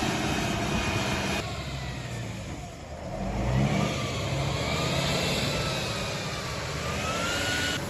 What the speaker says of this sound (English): The Tatras for wheels spun in the mud and had almost no grip to move forward.